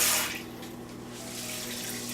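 Water pours from a tap or hose onto potted succulents in a greenhouse, a loud gush at first that settles into a steady trickling flow.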